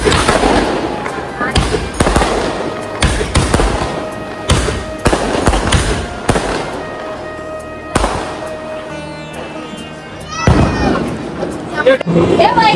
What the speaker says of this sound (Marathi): पाहुणे आलेले फटाके फोडायला लागले.